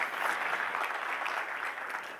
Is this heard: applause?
yes